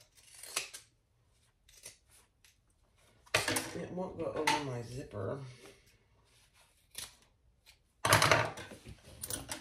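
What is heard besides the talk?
pinking shears cutting fabric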